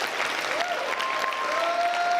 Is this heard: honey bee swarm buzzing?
no